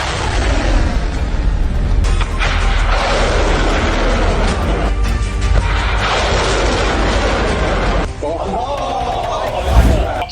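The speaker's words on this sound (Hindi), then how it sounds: "IRGC practices missile strike on replica of the US अल दफा बेस इन द UAE" IRGC missiles strike a replica of a US air base in the UAE, producing a run of loud, heavy booms and rumbling blasts that roll one after another, with a sharper burst near the end.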